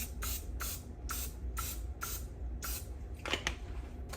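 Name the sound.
spraying grease onto a baking pan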